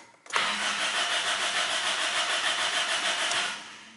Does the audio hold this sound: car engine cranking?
yes